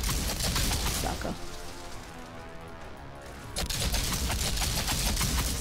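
Gunfire in the shooter game Outriders, dense bursts of shots and impacts filling the clip, easing briefly in the middle before rising loud again.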